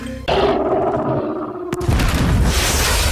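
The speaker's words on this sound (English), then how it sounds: "It's a sight to behold when Bert brings out the big gun" A big gun fires in the monster film Tremors 2: Aftershocks, a sharp loud blast followed by a dense roaring burst over a busy, loud film soundtrack.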